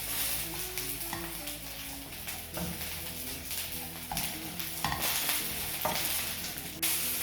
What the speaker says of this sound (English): Just want to cook this off until it gets rid of that flour taste.